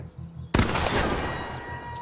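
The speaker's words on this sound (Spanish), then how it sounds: "¡Buen disparo!" A single sharp gunshot at a target in The Quarry, a loud abrupt crack followed by a lingering echo over a low background hum.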